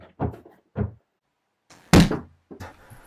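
Heavy thuds against a locked door in a tense domestic scene, a few separate loud bangs spread across a few seconds, with one especially forceful hit near the middle and no talk over them.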